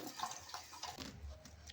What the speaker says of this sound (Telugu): కాకరకాయలను వాటర్లో వేసుకొని శుభ్రంగా కడుక్కోవాలి